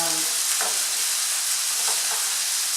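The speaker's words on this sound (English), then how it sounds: "I can hear that lamb is really sizzling away, which is great." Lamb sizzles steadily in olive oil in a casserole dish for a tagine, a constant crackling fry with a few brief stirring scrapes and no talking.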